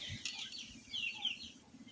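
Soft, scattered clucks and chirpy calls from chickens nearby, quiet and irregular against a faint outdoor background.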